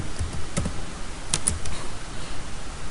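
Sparse key taps on a computer keyboard while typing into a browser address bar, a handful of light clicks scattered over a steady background hiss, nearby and without speech.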